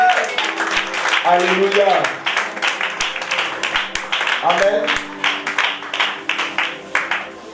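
A church congregation claps and cheers in a large room, applause rising and falling in waves while voices call out over it.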